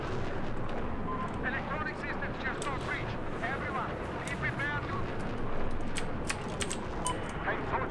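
Rapid aircraft cannon fire rattles during a strafing run on a tank in Battlefield 4, bursts of gunfire and explosion rumble mixed over steady game noise and engine drone.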